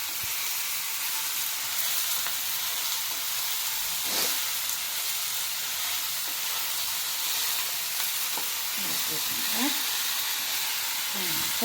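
Thalolikka thoran stirred and frying in a pan: a steady, even hiss of cooking throughout, with a few faint scrapes and a brief voice murmur near the end.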